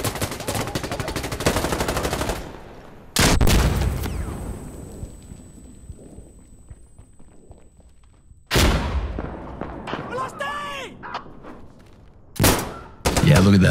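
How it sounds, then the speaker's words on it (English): Heavy SVD rifle shots in Insurgency Sandstorm, each a loud, sharp crack followed by a long ringing echo, with three or four spaced single shots across the scene. "Look at that, the SVD, buddy. One shot center mass, you know you're gonna drop targets."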